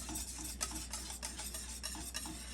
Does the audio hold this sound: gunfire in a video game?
no